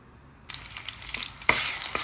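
Garlic frying in a pan for beef adobo, a steady close sizzle that jumps in at the start and swells sharply louder midway as it hits hot oil, with no talking.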